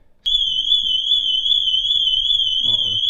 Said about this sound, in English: the alarm's on again, I don't know why